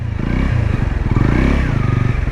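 A Honda CL250 250cc motorcycle is ridden at low speed, its engine giving a close, steady, pulsing rumble with slight rises in revs.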